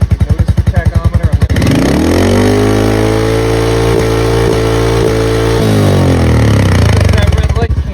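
Royal Enfield-style Meteor 350 single-cylinder motorcycle fitted with a Kent performance camshaft, thumping at idle and then revved hard past 6,000 RPM, a loud, close, sustained roar that holds, blips, and settles back before climbing again.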